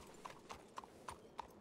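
Horse hooves clip-clop in Red Dead Redemption II, five evenly spaced, crisp hoofbeats at a walking pace, moderately close over a quiet background.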